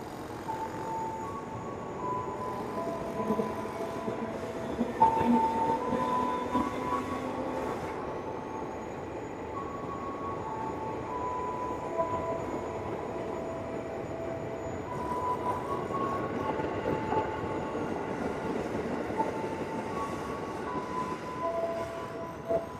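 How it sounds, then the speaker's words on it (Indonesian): A train pulls out from track 7 at Rangkasbitung station bound for Tanah Abang, a steady rumble of wheels and rolling carriages with faint squeals and a thin high whine, sustained and moderately loud throughout. "Keretanya mulai diberangkatkan dari jalur 7 stasiun Rangkas Bitung"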